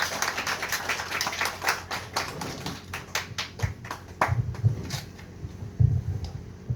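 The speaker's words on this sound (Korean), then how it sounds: "여러분 박수로 맞이해 주세요" A small book-talk audience claps to welcome a guest author, scattered hand claps that thin out and become sparse, with low thuds and room noise toward the end.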